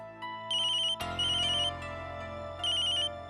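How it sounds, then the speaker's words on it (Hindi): An electronic phone ringtone plays a repeating melodic chime in bursts over a steady low hum, fairly loud and close, with no talking. "पैम का फोन।"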